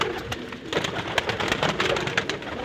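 A group of pigeons kept for sale coos continuously and close by, a dense, soft rolling murmur of overlapping throaty calls.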